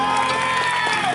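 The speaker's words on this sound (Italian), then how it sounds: "Facciamo un applauso a Paolo ed Aurora." Crowd applause and cheering at an open-air dance event in a town square, Piazza Le Monache in Ruvo di Puglia, steady and dense throughout with music tones underneath.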